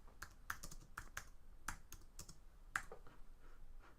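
Typing a pattern name on a computer keyboard, a quiet run of about a dozen irregular key clicks, close and alone.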